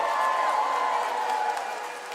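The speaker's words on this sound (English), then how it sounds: "Come on, give him a big round of applause," Sustained crowd applause with light cheering fills a live comedy show, a steady dense roar of clapping that tapers slightly at the end.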